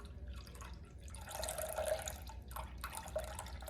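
Buttermilk poured off a batch of homemade butter made from heavy whipping cream, a soft steady trickle and splash of liquid at close range, alone.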